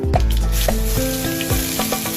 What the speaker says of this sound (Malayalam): കടുക് പൊട്ടി തുടങ്ങി അതിലേക്ക് നമുക്ക് ഇതൊക്കെ ഇടാം